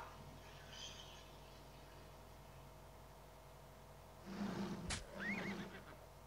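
A horse whinnies briefly in the turn-based strategy game Heroes of War and Money, one loud neigh with a sharp click over a low steady game hum, otherwise quiet.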